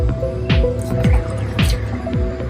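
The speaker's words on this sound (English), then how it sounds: "just whisk this well" A soaked basmati rice mixture for phirni is whisked by hand, making wet, squishy swishes in a steady rhythm about twice a second, close and fairly loud.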